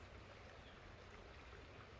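Creek water in Town Creek at Lenoir City Park splashes over rocks in a steady, close rushing babble, with no voices heard.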